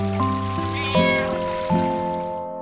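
A cat in Final Fantasy IX meows, a short series of tonal mewing calls over a steady musical game backdrop, fairly close and clear.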